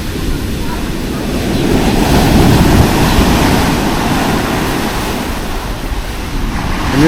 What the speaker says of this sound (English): To get in waves like this, you better be a good swimmer.